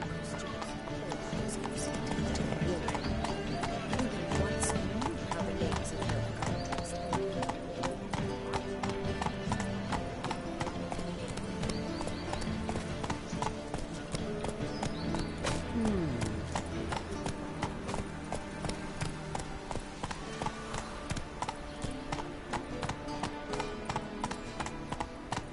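Roach, the horse, gallops in a PS4 video game, rapid rhythmic hoofbeats pounding steadily and close under music and game sounds, with a voice speaking at times.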